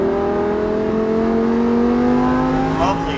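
A Lamborghini Huracan accelerates on the Sonoma race track, its engine note climbing steadily in a loud, continuous, sustained whine heard from inside the car.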